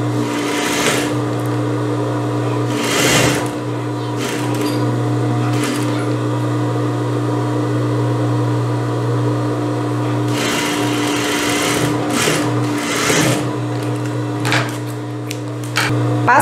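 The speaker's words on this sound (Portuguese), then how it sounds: "coloco a emenda no centro costa e passo a costura" An electric sewing machine stitches a band onto a blouse, running in loud, close bursts with a steady motor hum and rapid needle clatter, separated by brief pauses.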